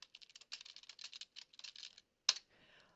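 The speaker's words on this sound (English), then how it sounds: "you'll see if I type some text here" Someone types on a computer keyboard in quick, uneven bursts of crisp keystrokes, close and quiet, with short pauses and one louder final tap, nothing else heard.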